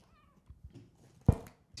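A pet cat gives a short meow indoors, a brief, fairly faint call followed by one louder sound, with long quiet gaps around it and no talking.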